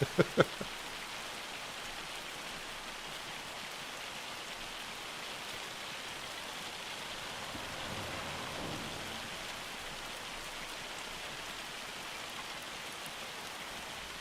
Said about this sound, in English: The sound inside the house must be so loud with hail hitting that.